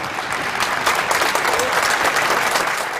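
City council members give sustained applause for İmamoğlu in a council chamber, a dense, even clatter of clapping hands lasting throughout with a faint murmur of voices underneath.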